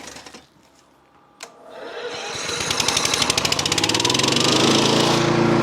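An SDLLM500 remote-controlled lawn mower driving on pavement, starting quiet with a brief knock, then its engine revving up into a loud, harsh, rapidly pulsing rattle that swells and stays close and dominant.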